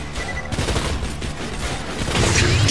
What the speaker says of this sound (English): I shoot out rockets now.